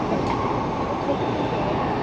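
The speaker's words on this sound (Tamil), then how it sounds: "இப்போ இன்னொரு ட்ரெயின் போகுதா இன்னொரு ட்ரெயின் போகிறதுனால அந்த ஸ்பீடு தெரியுது" Another train rushes past on the adjacent track, a loud steady rumble and rush heard from inside a moving train, filling the whole moment with no talk over it.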